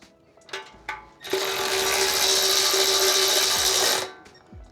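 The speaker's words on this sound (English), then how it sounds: "Power tool time." A power tool whirs loudly at a steady pitch for about three seconds during a Honda Shadow gas tank swap, preceded by a couple of short clicks and knocks.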